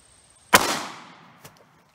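A single sharp shot from a Taurus GX4 9mm pistol firing a Fiocchi hollow point round, cracking loudly and decaying over about half a second before a faint click follows.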